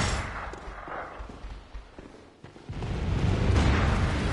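Enemy gunfire in the video game Bloodborne: a few sharp shots and booms at moderate distance, rising into a louder rumbling burst toward the end.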